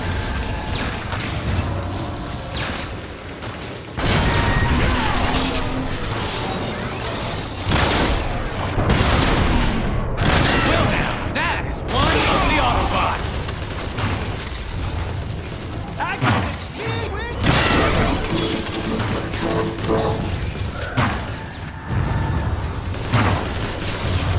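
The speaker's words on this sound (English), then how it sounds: "I can make shooting Autobots look this good." Gunfire hits Autobots in the video game Transformers: War for Cybertron, with bursts of shots, booms and mechanical clanks over about twenty seconds, loud and dense, while voices talk throughout.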